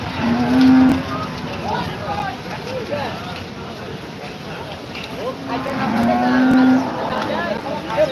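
A black cow moos twice, a low drawn-out call near the start and another a few seconds later, amid outdoor market bustle and people talking.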